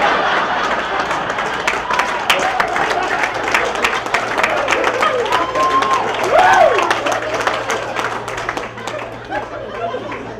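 A comedy contest audience claps and cheers over steady crowd chatter and chuckles, with dense applause running throughout at a fairly loud, close level.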